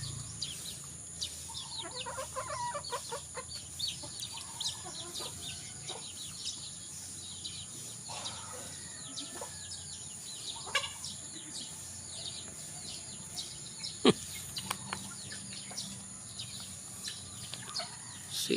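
Chickens clucking and calling among other birds on a farm where a goat is kept, with scattered short calls over steady background noise and a sharper squawk near the middle, fairly faint and distant, with no one talking.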